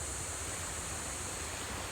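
The Pampanga River, fed from Pantabangan Dam, flows at Rizal, Nueva Ecija, with a steady, even rush of water filling the space, constant and unbroken, with no voices.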